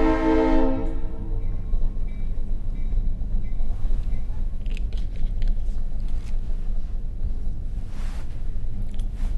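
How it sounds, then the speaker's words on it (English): A train blows its horn in a short, loud blast, then rumbles past steadily with rolling wheel and car noise and a few clanks, fairly close for several seconds. "Let the train go."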